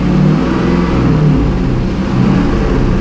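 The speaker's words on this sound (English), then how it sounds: "Let's give some throttle." A car engine revs steadily under applied throttle during lean-fuel diagnostic testing, a loud, continuous mid-pitched drone with no talk over it.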